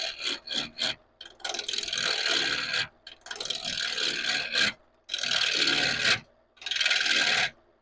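A bowl gouge cuts into a spinning piece of wood on a lathe, rounding it: harsh scraping bursts of a second or more, broken by short silent gaps, loud and close.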